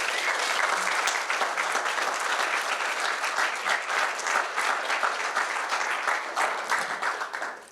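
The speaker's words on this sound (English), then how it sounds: "please join me in giving a round of applause to everybody." An evening community meeting in Vancouver gives its volunteer team a sustained round of applause: loud, dense, even clapping from a large audience that holds steady for nearly eight seconds, then tapers.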